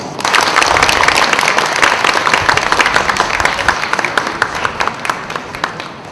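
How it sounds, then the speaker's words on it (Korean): An audience at a company year-end gathering breaks into loud, sustained applause, many hands clapping together before the crowd slowly tapers off. "뜨거운 박수로, 뜨거운 마음으로 맞이하도록 하겠습니다"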